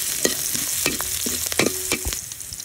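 Ginger and garlic sautéing in a pan for chicken liver and gizzard, heard as a soft sizzle under several quick, sharp spatula scrapes and taps against the metal.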